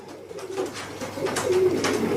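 A straight-winged pigeon, small-tailed and broad-chested, coos close by in a steady, rolling murmur that swells slightly toward the end, alone without any talking.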